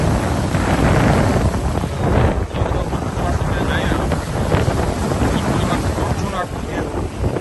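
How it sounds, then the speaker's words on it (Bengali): Loud, roaring waves crash on the Lake Ontario shore in Canada, a constant broadband surge mixed with heavy wind buffeting the microphone throughout, with no voices. "সেই সমুদ্র সৈকতের চেয়েও অনেক বেশি গর্জন এবং ঢেউ।"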